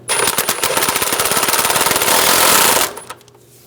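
Impact wrench rattling in a rapid hammering burst for nearly three seconds, loosening the crank pulley bolt on a 1994-1997 Honda Accord 2.2L four-cylinder, then stopping abruptly; loud and close.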